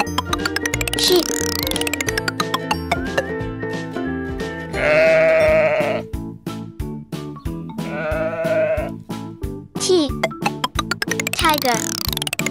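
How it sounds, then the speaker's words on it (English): A sheep bleats twice in a children's alphabet learning song, two wavering cries set against loud, bright electronic music. "Sheep."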